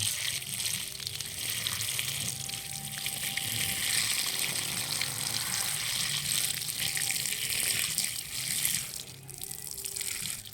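Food from a farm plant rinsed under running water, a steady close rush of flowing water with splashing that continues throughout without pause.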